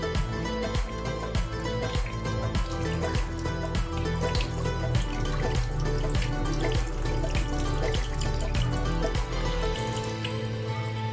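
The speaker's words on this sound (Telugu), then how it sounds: "ఇలా రైస్ని 2 times బాగా వాష్ చేసుకొని 3 times వరకు మంచిగా వాష్ చేసుకొని" Tap water runs steadily into a pot while rice is washed, with a continuous splashing rush and faint clinks of grains and vessel throughout, no voice heard.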